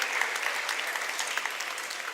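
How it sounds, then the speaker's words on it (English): An audience claps steadily for a Model United Nations conference coordinator at a school event, a dense, even patter of many hands indoors without pause. "a big round of applause for Mrs. Malika Ariwala"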